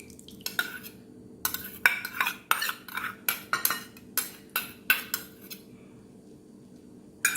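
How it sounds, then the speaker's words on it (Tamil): Spoon stirring sabja seeds and sago in a bowl for paal sarbath: a quick series of sharp clinks and scrapes against the bowl, irregular but rapid, close and fairly quiet, with brief pauses between bursts. "எல்லாம் கலக்கி விட்டுருங்க."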